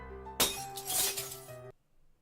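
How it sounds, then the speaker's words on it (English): Glass shattering in the video game Silver:Line, one sudden loud crash of breaking glass that rings briefly under game music and then cuts off into near silence. "The sudden sound of shattering glass catches all of our attention."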